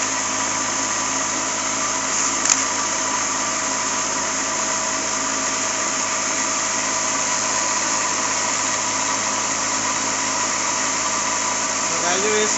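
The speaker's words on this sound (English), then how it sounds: "motor will be running at a high speed even though small amount of load is being applied for the DC series motor" A DC series motor spins at high speed during a brake load test on a lab bench, giving a steady, loud whirring hum with a constant pitch throughout.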